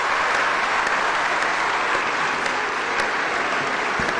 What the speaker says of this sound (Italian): Il lungo applauso di Palazzo Madama per una scelta storica.